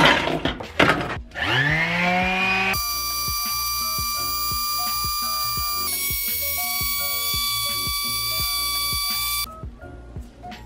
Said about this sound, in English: Now I need to go ahead and sand down all of the panels that get inserted into the dome.